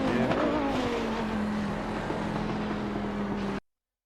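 An Audi 90 GTO race car brakes and drops to second gear at Spa, its loud close engine drone sliding steadily down in pitch for a few seconds before cutting off, with no talking.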